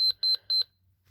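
A Sharper Image travel alarm clock buzzes in three quick, high-pitched double beeps, evenly spaced and fairly quiet, then stops in near silence.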